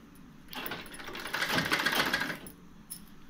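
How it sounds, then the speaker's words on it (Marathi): A sewing machine stitches a lace border onto the edge of a saree. The motor whirs up quickly and chatters steadily for about two seconds, then stops, followed by a faint click. "परत आपण अशा प्रकारे शिवण टाकत ही लेस पूर्णपणे अटॅच करून घ्यायची"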